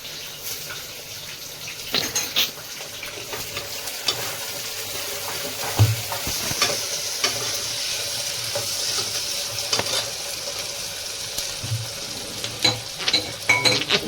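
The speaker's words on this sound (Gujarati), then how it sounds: "જો વઘાર કરી રહ્યા છે." Whole spices tempering in hot oil for a Gujarati vaghar, a steady close crackling sizzle that runs throughout with occasional louder pops and stirring clatter, no talking.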